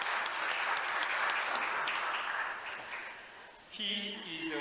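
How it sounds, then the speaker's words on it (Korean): Applause welcoming an attorney speaker at a patent court conference session, a moderate round of clapping that fades after a few seconds before a voice begins speaking. "박수로 환영해 주시기 바랍니다"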